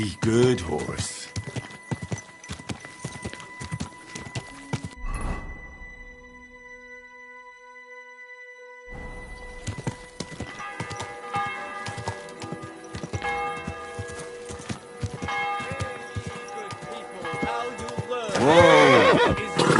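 Horse whinnying and hooves clip-clopping in the medieval game Kingdom Come, with a loud neigh near the end, steady hoof beats and a bell tolling faintly in the middle while someone talks over much of it.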